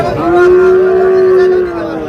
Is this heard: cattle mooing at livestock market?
yes